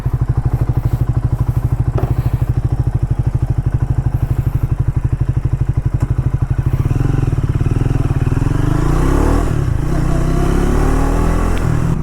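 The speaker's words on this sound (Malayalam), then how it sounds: "സോ നമുക്കൊരു ഷോർട്ട് ഡ്രൈവ് പോയാലോ നമ്മുടെ ട്രയംഫിൻ്റെ ട്രാക്ക് 400 എടുത്തിട്ട്" A Triumph Tracker 400 motorcycle on a short ride: loud, close single-cylinder engine thumping in a steady pulse, then rising revs and rushing road and wind roar as it pulls away.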